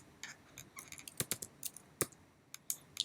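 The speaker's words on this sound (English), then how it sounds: "I'm typing here" Rapid, uneven clicking of keys on a computer keyboard, close and fairly quiet, with no voices.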